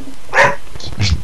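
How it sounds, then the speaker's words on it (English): A dog gives a couple of quick, sharp barks close by, a short burst of two yaps in about a second. "There's the dog."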